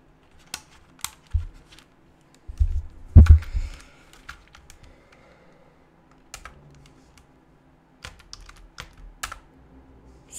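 Keys clack on a computer keyboard beside a Raspberry Pi setup in a quiet room, coming in short irregular bursts of close typing separated by pauses.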